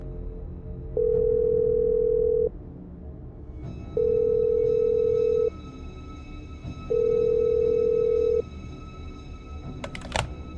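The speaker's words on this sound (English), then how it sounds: "On the fourth ring, Dr. Cartwright finally answered." A telephone call rings through on the caller's end: three evenly spaced long ring tones with pauses between them, loud and clear, ending with a brief click as the line picks up.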